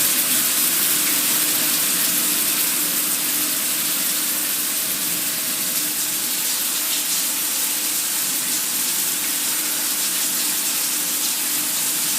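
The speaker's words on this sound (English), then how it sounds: "Let's turn the water on now, and everything will be as before." Water runs steadily from a tap in the video game The Town of Light, a continuous, loud hissing stream in a changing-room setting with no pauses or voices.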